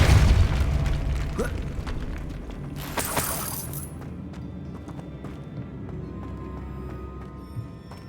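A Depulso force spell fires in Hogwarts Legacy, a loud booming burst at the start followed by a bright crackling blast a few seconds later, then settling into quieter ambient rumble with small clicks.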